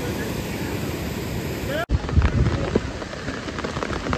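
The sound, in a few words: rain starting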